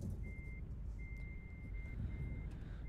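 Reversing beeper on a truck in Euro Truck Simulator, long steady electronic tones repeating under a low rumbling diesel engine, fairly faint against the engine noise.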